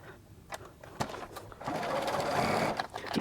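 A home sewing machine runs a straight seam in fabric for shorts, starting with short bursts and then settling into a steady, close mechanical whir.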